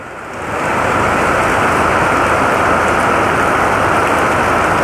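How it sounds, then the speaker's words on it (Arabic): Heavy rain pours down on flooded streets during a cyclone, forming a loud, dense, unbroken roar that swells in the first half second and then holds steady. "خذ شويه مطر يا علي ابو الخيله عندك"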